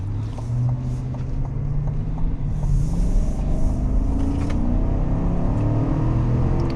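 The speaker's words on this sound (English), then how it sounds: "I'll give it some more acceleration." A 2024 Chevy Suburban High Country accelerates under steady throttle, its deep engine drone and road rumble rising gradually in pitch, heard continuously from inside the cabin with no talking.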